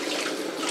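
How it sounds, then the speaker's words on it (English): Water poured into a pot of smoked dried turkey soup with peanut, a steady broadband rush of liquid running continuously and close for under a second. "More H2O. Gonna add the water."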